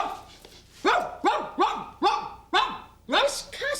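A voice imitating a dog, giving about six sharp, loud barks in a quick, steady rhythm with a couple of softer whimpering yips at the start.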